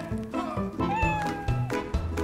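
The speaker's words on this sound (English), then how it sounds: "A cat named Mouse." A cat meows several times in a row, close and clear, the calls rising and falling over a low background rumble.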